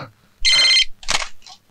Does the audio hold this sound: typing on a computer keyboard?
no